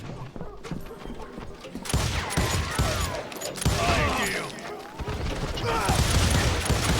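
Gunfire in the Western shooter video game Call of Juarez: Gunslinger. Rapid bursts of shots crackle through a dense, busy game soundscape, with voices faintly mixed in.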